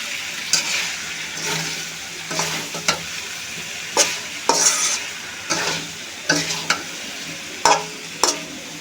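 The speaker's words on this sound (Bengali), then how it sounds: "একটু কষিয়ে নিচ্ছি।" Spiced meat stir-fried in a pan for a hot mutton curry, with a steady sizzle broken by repeated scraping strokes of a spatula at an irregular rhythm, close and clear, with no talking.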